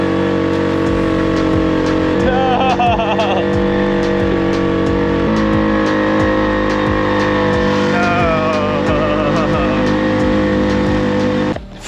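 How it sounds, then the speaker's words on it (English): On a hill road near Ambuluwawa in Kandy, Sri Lanka, a motorbike engine drones loudly and close by, its revs climbing and shifting in steady, buzzy pulses before cutting off abruptly at the end. "We're getting caught by the motorbike."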